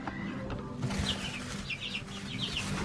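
Backyard chickens moving into a newly built coop give soft clucks and chirpy calls, with brief wing rustling at the start, at moderate distance and fairly quiet.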